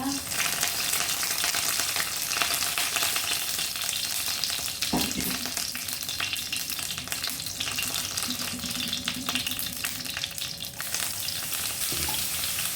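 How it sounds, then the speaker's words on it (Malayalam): Curry leaves and masala hit hot oil with a loud, continuous sizzle and spatter, broken by a few faint stirring knocks against the pan partway through. "അപ്പോൾ നമ്മളുടെ എണ്ണ നല്ലോണം ചൂടായിട്ടുണ്ട്. ഇതിനകത്തോട്ട് നമുക്ക് നമ്മളുടെ വേപ്പില,"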